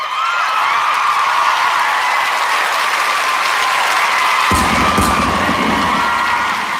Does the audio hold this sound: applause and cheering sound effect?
yes